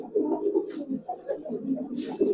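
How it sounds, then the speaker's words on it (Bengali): Old-generation giribaz pigeons cooing nearby, a series of soft, low rolling coos in a loft, repeating in short bursts with faint background noise. "কবুতর গুলো দেখেন"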